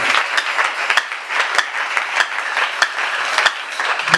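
A church congregation applauding together, a steady wash of many hands clapping with a few sharper individual claps standing out, loud and continuous with no talk over it.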